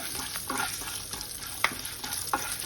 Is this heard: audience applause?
no